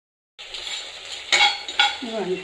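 Gongura leaves fry in a few spoons of oil in a kadai, with a steady sizzle that begins abruptly. Two sharp metallic scrapes and clinks of a spoon stirring against the pan sound up close.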